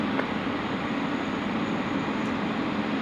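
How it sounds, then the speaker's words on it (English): A Qantas Boeing 737-800 jet departs Sydney Airport at night, heard as a steady, broad roar of engine noise holding at a constant level with no distinct peaks. "That particular aircraft departing there was the Qantas 481, which is a 738"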